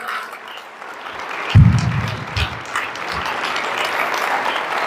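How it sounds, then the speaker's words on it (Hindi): An audience at a business seminar speech breaks into loud applause that swells suddenly and keeps going as sustained clapping after a quiet lead-in. "एक बार दिनेश मोहन जी के लिए जोरदार तालियां।"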